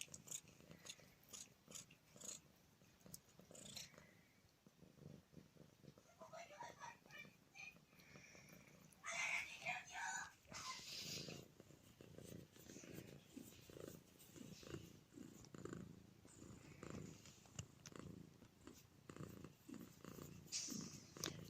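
A cat purrs steadily and close up, a low rhythmic rumble running throughout, with some brief rustling and handling noises partway through.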